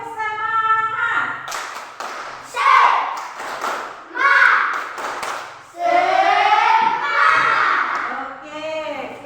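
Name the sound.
children doing rhythmic spirit clapping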